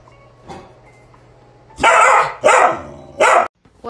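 A dog barks loudly three times in quick succession, close to the microphone, after a faint yip and a low hum at the start.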